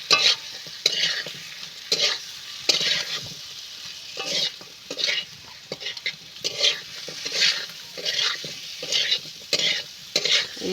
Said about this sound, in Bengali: আলুটা দিয়ে আমি প্রথম খুব সুন্দর মতো করে কষিয়ে নেব।